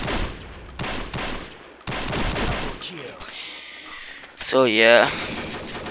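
Rapid automatic fire from an AN-94 rifle in the shooter game Combat Arms, several sharp bursts loud and close, with a voice talking briefly over parts of it.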